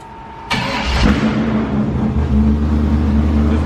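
A 6.0L LS-swapped Willys Jeep with a Turbo 350 transmission cranks and fires, then settles into a loud, close, slightly uneven idle that holds steady to the end.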